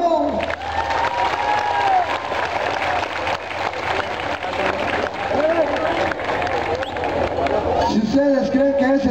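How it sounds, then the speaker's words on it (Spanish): A crowd at a bull riding competition claps and cheers, sustained loud applause mixed with crowd babble, whistles and shouting voices that continues throughout. "Por favor, vamos a repetir el aplauso."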